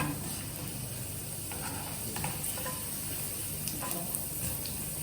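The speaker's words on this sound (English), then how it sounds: "Let's stir a little bit." Peanut chutney being stirred in a pan, a soft steady sizzle with faint scraping scrapes here and there, quiet and continuous throughout.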